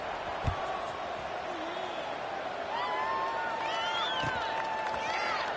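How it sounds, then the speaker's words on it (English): A stadium crowd at a college football game against Georgia Tech keeps up a steady, buzzing roar after a score, with a few thumps and whistles over it and a commentator talking throughout. "this crowd is buzzing after that last score"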